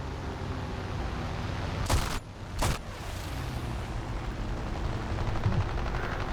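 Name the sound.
machine gun fire from a D520 plane in a video game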